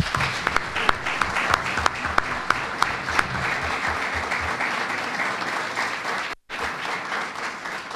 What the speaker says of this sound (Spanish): Pido para todos ellos un fuerte aplauso